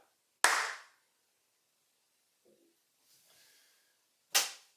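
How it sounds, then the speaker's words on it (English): A single sharp hand clap rings out close in a quiet room, followed by silence, faint small noises, then a second crisp clap near the end. "I guess I can start with a clap"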